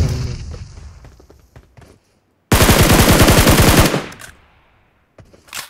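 Automatic gunfire in PUBG Mobile: one loud, rapid machine-gun burst of about a dozen evenly spaced shots lasting over a second, then a fading echo and quiet, with scattered faint clicks around it.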